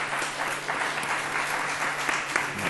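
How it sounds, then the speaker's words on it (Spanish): Sustained, dense applause from a press conference audience at a film festival, a steady wash of many hands clapping at even loudness throughout. "Os pido por favor un aplauso para Alain."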